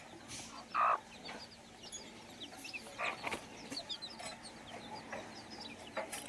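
A village hen clucks softly to her young chicks, with one louder cluck near the start followed by scattered quiet clucks and peeps against a low background hum.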